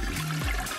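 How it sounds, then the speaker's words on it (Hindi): A toilet flush gurgles and rushes briefly, a short close burst of running water that drops off at the end, with no talking. "क्या टॉयलेट में फ्लश करना इतना मुश्किल है?"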